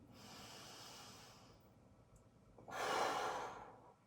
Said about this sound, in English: You're just breathing.